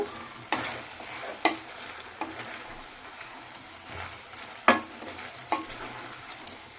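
Fried pointed gourd being stirred and sautéed in a pan, a soft frying hiss broken by several sharp scrapes and clacks of the spatula against the pan at irregular intervals, close and fairly quiet, with no talking.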